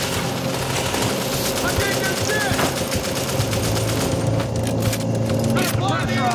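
Rapid gunfire from a secondary weapon in the video game The Division, dense bursts of shots over a busy battle soundscape, with voices talking over the action.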